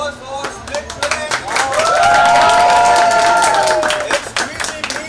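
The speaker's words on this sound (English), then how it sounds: "let's have a huge round of applause for Split Villain." Fans at a reality-show host's fan meet applaud and cheer loudly, dense clapping mixed with rising shouts and whoops that swell into a sustained cheer before the clapping continues.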